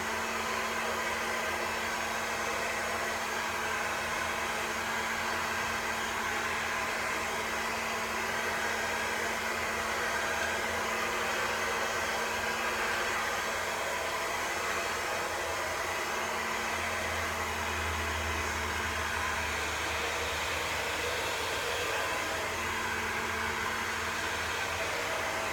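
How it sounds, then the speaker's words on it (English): A hair dryer blows steadily and close throughout while hair is blow-dried at the root and midsection using a flat wrap technique, a continuous loud whoosh with no talking. "When we do the flat wrap technique to blow dry the root and part of the midsection of the hair"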